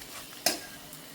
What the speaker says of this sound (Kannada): ಇದು ಚೆನ್ನಾಗಿ ಫ್ರೈ ಆಗಿದೆ